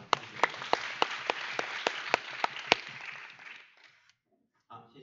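Applause from a seminar audience at a forum on climate and circular economy, a small number of sharp, spaced claps over about three seconds that thin out and stop, followed by near silence and a brief sound at the end.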